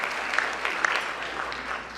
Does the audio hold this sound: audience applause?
yes